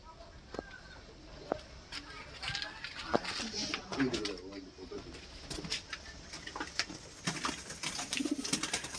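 Soft coos from Kaldam, Laldam and Kalshira pigeons repeat at close range among scattered fluttering and shuffling sounds, with quiet speech now and then in the background.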